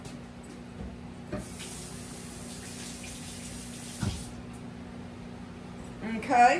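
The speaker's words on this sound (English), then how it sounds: "Let me wash this off." Tap water runs steadily into a kitchen sink as raw chicken is rinsed, a soft, even hiss lasting several seconds before it stops. A brief spoken word and faint handling clatter follow.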